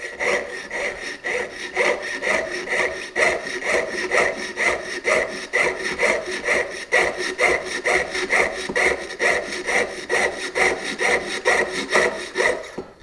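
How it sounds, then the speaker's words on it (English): A fine jeweler's saw cuts through gold, silver or platinum sheet with light pressure, giving a steady rhythmic rasp of even back-and-forth strokes, close and continuous with no talk. "You press very lightly and you let the saw do the work."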